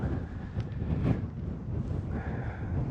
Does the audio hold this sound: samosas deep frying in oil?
no